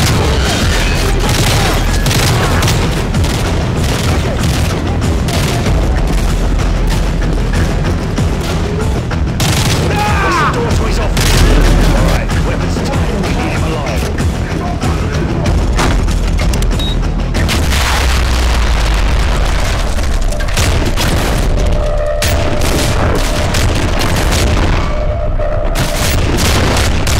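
Continuous, loud gunfire and booming explosions from the video game Call of Duty: Modern Warfare 3, with dense overlapping shots and heavy blasts throughout and occasional voices under the combat.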